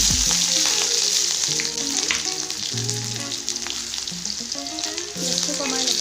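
Cumin seeds, whole coriander, two dried red chillies and finely chopped onion frying in oil in a pan, a loud, steady crackling sizzle that goes on throughout with no talking over it.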